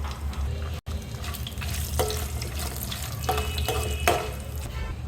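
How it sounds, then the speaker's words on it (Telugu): Cashews and whole biryani spices frying in hot oil in a pan for prawn pulao, a steady close sizzle and crackle with a few soft stirring knocks, no voices. "ఒక పది నుంచి పదిహేను జీడిపప్పులు కూడా వేసుకొని మంచిగా ఫ్రై చేసుకోవాలి"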